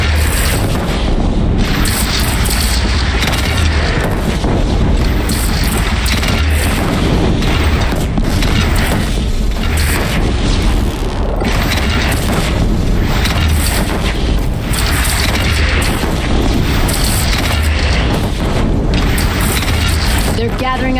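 Bandit cannon firing in the video game Horizon Zero Dawn, heavy booms and explosions rolling repeatedly through loud, dense battle noise, with voices shouting over it.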